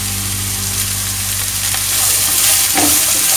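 Pan-frying Kerala-style dragon chicken with pepper powder, stirred steadily through a loud, continuous sizzle that swells slightly near the end, with no voices.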